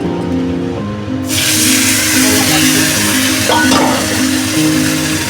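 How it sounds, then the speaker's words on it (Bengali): Fish frying in a pan, an oily sizzle that bursts up loudly after a quieter moment and keeps hissing steadily at close range, with no voices. "মাছটা ভেজে নিই"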